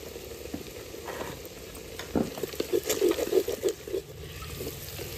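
Onions frying with salt in a pan while being stirred, a steady sizzle that grows louder and busier in the middle with bursts of scraping, close and clear, without talk.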